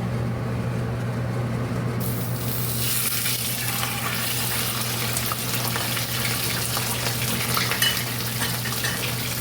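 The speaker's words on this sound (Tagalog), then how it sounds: "Prito na tayo ng isda." Fish sizzling and crackling in hot oil, a steady loud frying hiss that continues without a break.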